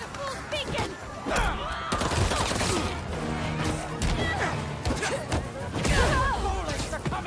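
Bullets fly in a Spider-Man video game: rapid gunfire mixed with crashes and impacts, dense and loud over a busy game soundtrack.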